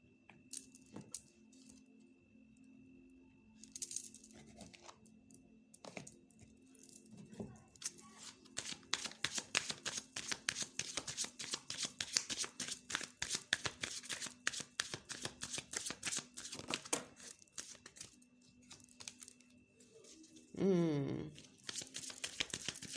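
A deck of oracle cards is shuffled close up in rapid, continuous riffling bursts after a few quieter handling sounds, with a brief low vocal sound near the end.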